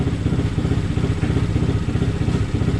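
A Honda Grom motorcycle with a tuned ECU idles steadily up close, its engine giving a loud, continuous low rumble with a choppy, lumpy pulse throughout and no voices.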